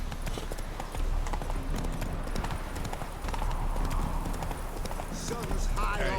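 A horse gallops in The Witcher 3 video game, giving loud, rapid, continuous hoofbeats close by, with a voice speaking over them.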